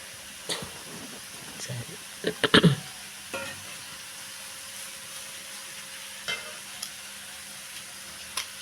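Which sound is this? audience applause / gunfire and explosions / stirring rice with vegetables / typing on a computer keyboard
stirring rice with vegetables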